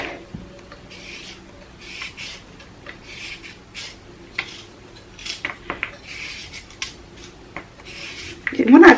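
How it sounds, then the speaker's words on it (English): Carrot being peeled with a hand peeler, a series of short, light scraping strokes in an irregular rhythm, fairly quiet and close, ending with a louder rustle. "So I'll start by peeling the back of this carrot."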